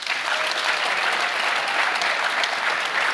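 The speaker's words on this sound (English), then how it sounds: "Applaud if you think Trump has little or no chance to win the election." An audience at a Supreme Court panel event answers a show-of-hands poll with full, dense applause, an even, sustained roar of many hands clapping at once for about three seconds.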